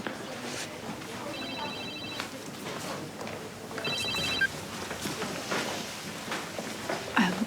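A phone rings twice in bright trilling bursts, separated by a pause, with faint movement and background noise around it.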